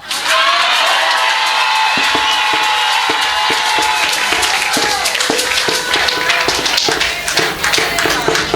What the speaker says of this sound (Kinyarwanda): Kadukomere Imana amashyi